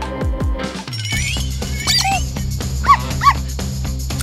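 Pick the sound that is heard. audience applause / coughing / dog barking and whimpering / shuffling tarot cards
dog barking and whimpering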